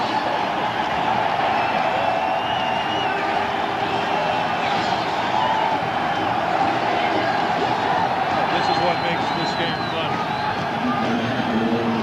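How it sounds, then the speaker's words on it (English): A packed football stadium crowd on its feet roaring and cheering during a December 1986 Patriots home game, a steady loud wall of noise under continuous commentary. "I don't know if they're doing this to cheer on the Patriots or to stay warm, but this entire stadium on its feet."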